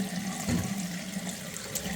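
Tap water runs steadily into a sink, mineral-stained from well water, while knife parts are rinsed under the stream, a close, continuous gushing with a low hum beneath and no talking.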